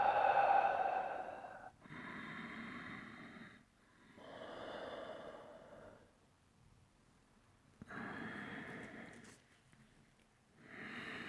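Deep yoga breaths during a seated forward fold, several long airy inhales and exhales rising and fading in a slow rhythm, close and fairly loud, with no talking over them.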